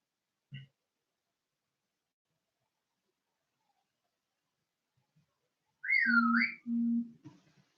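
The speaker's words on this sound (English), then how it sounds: "That's my phone now. Wolf whistle me." A phone plays a wolf-whistle ringtone: a rising then falling whistle, clear and close, followed by a couple of low electronic tones, after a long quiet stretch.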